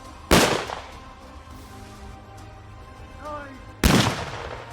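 Two loud, sharp sniper rifle shots fired at a competition target on an outdoor range, spaced several seconds apart with echoing tails, and a voice speaking quietly between them.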